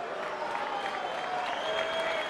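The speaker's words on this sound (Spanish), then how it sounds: "Y la ovación." A boxing crowd applauds steadily and continuously in an ovation, a dense wash of clapping with a few voices mixed in.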